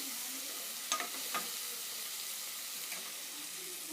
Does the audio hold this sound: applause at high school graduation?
no